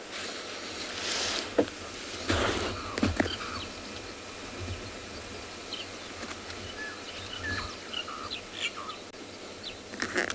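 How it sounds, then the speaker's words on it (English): Burchell's starlings chirping and calling near a waterhole on an afternoon safari in South Africa, scattered bright calls off to one side over a steady background of insects and other birds, moderately distant. "Yeah, some starlings off to the right. Birchill starlings."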